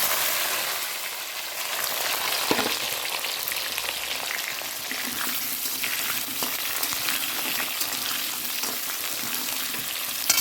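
Potatoes frying in a pan with fish, onion and chilli, a steady, close hiss and crackle of hot oil throughout with occasional louder pops.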